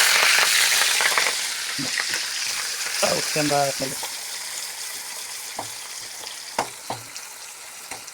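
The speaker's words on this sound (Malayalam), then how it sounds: "കടുക് പൊട്ടി വന്നെങ്കിൽ നമ്മുടെ" Mustard seeds crackle in hot coconut oil for an Onam ginger curry, a busy sizzle broken by sharp pops that thin out and fade over time, with a brief spoken word.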